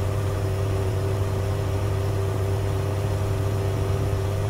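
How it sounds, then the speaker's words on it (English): Steady engine drone with a low, constant hum and road noise, unchanging throughout with no voices. "I don't want to rob you guys of that engine sound"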